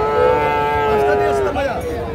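A Sahiwal heifer calf of about three months and other young calves at Kaharol cattle market low in a loud, drawn-out moo that wavers for two seconds, close by.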